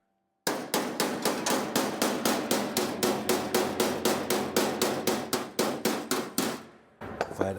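Sheet metal on a rat rod truck body being hammered by hand to stretch it: a steady run of about twenty-five loud, evenly spaced blows, close and alone, ending in a short pause and a few lighter taps.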